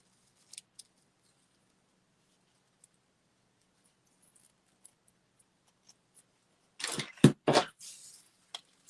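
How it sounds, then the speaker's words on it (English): Scissors snip through floral tape during a sugar-craft pine cone branch project, giving a quick cluster of three or four crisp close cuts after a long near-silent stretch with a few faint ticks. "And then you can get scissors and cut the rest of it."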